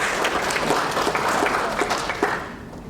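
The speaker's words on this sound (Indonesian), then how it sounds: "Kita harus memberikan aplaus yang besar pada Bapak" Hearty audience applause follows a tribute at a national seminar honoring Frans Seda, dense and close, with rhythmic claps standing out before it gradually thins toward the end.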